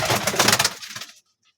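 White double-crested pigeons in a home coop make a brief, dense burst of close cooing and flutter that stops abruptly, leaving near silence afterward.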